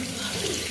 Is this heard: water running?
yes